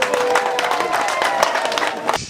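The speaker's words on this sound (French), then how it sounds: "Une fois de plus, applaudissez pour UCA." Crowd applause at the official inauguration of a water borehole in Bamougoum, steady dense clapping that holds throughout before cutting off abruptly at the end.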